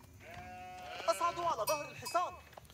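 Sheep in the strategy game Age of Empires 4 bleat repeatedly, a cluster of quavering calls over low background game ambience.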